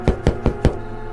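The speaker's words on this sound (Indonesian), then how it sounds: "ia mengetuk pintu dengan kuat" Four hard, sharp knocks strike a wooden door of a plank house in quick, even succession. They are loud and close, with a brief resonant ring after the last blow.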